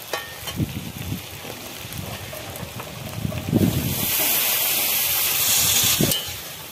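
Hot water poured into a pan of browned chicken cooked with green chillies, rising into a loud steady sizzling hiss of steam in the second half, after some soft handling knocks.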